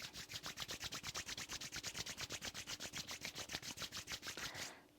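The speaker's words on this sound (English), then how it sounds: "Rub your palms together." Two palms rubbed briskly together, a fast regular swishing of about five strokes per second, close and soft, lasting several seconds before stopping abruptly.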